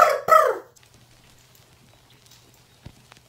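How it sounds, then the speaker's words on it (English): A rooster crows in a short, loud burst added as a sample to a lo-fi hip hop beat, then fades into a quiet hum with a faint click near the end. "The next thing we're gonna do is put some bird noises."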